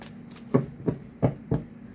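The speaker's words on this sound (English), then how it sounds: "I'm hearing two more shuffles." A Rider-Waite tarot deck is shuffled up close, four soft riffling bursts evenly spaced over two seconds in a quiet room, with no voices.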